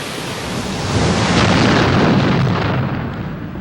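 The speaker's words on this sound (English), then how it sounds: "These erupt when magma below forces its escape." A volcano erupting, with expanding gas and boiling groundwater blasting through: a loud, continuous broadband roar and rumble that swells around the middle and holds steady without any voices.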